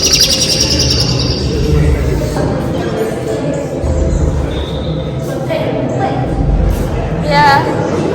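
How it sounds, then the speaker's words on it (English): Birds chirp in short, bright tweets at Montjuic in Barcelona, several calls scattered over busy outdoor ambience with people's voices in the background. "Bird. More birds there."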